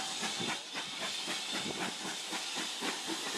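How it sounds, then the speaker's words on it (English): A heritage steam train leaves the station in Paignton with a loud, continuous hiss of steam and a rhythmic chuffing pulse beneath it, close by and with no talking. "We've got the Heritage departing and we've got the HSTs over here."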